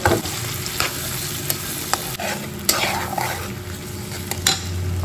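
Garlic and onions frying in oil, a loud close sizzle with repeated metal utensil scrapes and clanks against the pan as they are stirred.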